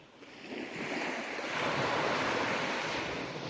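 Sea surf rolling onto a small Northumberland beach, Football Hole, as a continuous broad wash of breaking waves that swells louder midway, mixed with gusty wind buffeting the microphone.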